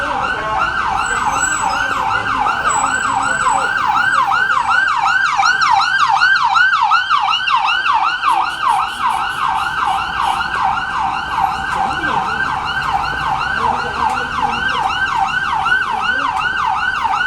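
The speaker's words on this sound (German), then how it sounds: "Wie kommt bitte ein Polizeiauto hier durch?" Police car siren on a New York street, a loud rapid warbling wail cycling continuously and close by over faint traffic noise, with no voices over it.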